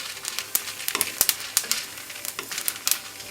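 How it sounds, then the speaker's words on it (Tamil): Dried red chilies sauté in a pan for a coconut chutney, giving a steady close sizzle broken by sharp scraping clicks of stirring at an irregular rhythm, with no talking. "நம்ம வரமிளகாவும் இதிலே சேர்த்திக்கலாம். நல்லா வதக்கலாம்."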